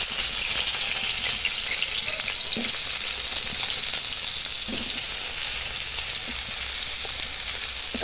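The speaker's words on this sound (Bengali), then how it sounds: "এই তেলের মধ্যে এবার দিয়ে দেবো কাঁচকলা।" Raw green plantain slices sizzle steadily in hot oil for Bengali shukto, a continuous close crackle with a few soft stirring knocks and no voices.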